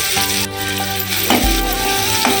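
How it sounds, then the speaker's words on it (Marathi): Onion sautéing in oil for a drumstick-flower bhaji gives a loud, close frying hiss with a steady tonal hum beneath and a couple of brief stirring knocks. "तेल टाकले, आता जरा कांदा परतून घेते"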